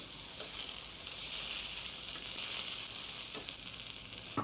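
Chicken pieces frying in hot oil in a pan give a steady, soft hiss and crackle, with a faint occasional stir, and no one talking.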